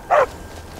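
A single short dog bark in the video game Skyrim, loud and close, standing alone over quiet ambience.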